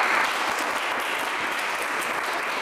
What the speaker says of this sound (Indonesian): Wah, kita berikan aplaus juga.